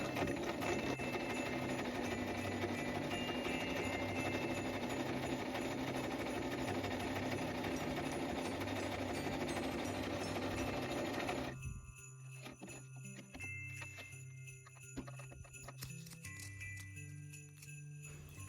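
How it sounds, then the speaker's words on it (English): A sewing machine runs steadily, stitching back and forth over a small fabric tab for a Christmas ornament, then stops abruptly, leaving a quieter stretch of faint clicks and handling. "In order to secure the tab, I will backstitch a few times while I'm sewing over it."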